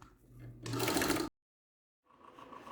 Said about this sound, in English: I'm going to go ahead and back stitch over the area that I had the D-ring as well